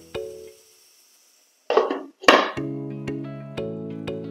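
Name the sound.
covering the cooking pan with a lid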